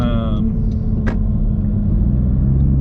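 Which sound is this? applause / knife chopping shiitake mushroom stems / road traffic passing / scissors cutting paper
road traffic passing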